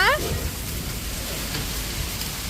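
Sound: hailstorm rain falling

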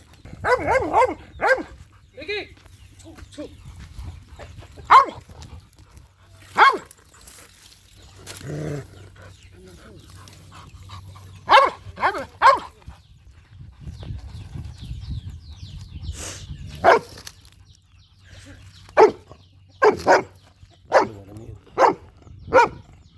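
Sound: dogs barking

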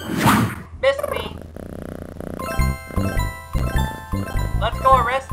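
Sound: cat meowing and purring in Carmen Sandiego video game

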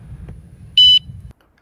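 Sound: anti-theft bike alarm confirmation beep on activation

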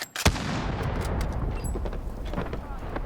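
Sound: gunfire in a zombie-mode shooter video game

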